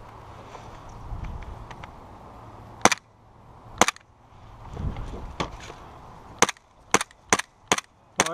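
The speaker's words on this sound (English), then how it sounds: "I was shooting at them with my pistol." Gas blowback airsoft pistol, a KWA ATP, fired outdoors in a game in about eight sharp cracks, single and in quick pairs, over faint wind and rustling.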